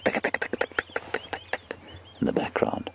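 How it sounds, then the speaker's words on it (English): A bearded woodpecker taps its territorial rhythm at sunrise on a safari drive, a rapid run of sharp knocks, then a short busier burst near the end. "You can also hear the bearded woodpecker doing his territorial tap"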